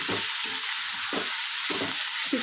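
Chowmein stir-fries in a pan with a constant bright hiss of frying, while the spatula scrapes and tosses the noodles in regular low thumps roughly every half second, close and loud, with no talking.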